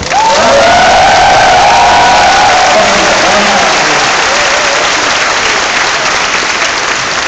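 A large crowd applauds loudly and continuously, with cheering and whoops rising over the clapping at the start before settling into sustained applause.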